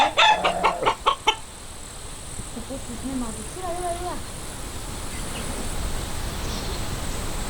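Estonian landrace chickens clucking and calling outdoors, a burst of sharp rhythmic clucks at the start followed by a few softer drawn-out calls, then quieter ambient hum with insects in the background.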